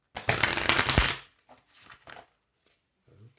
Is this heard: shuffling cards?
yes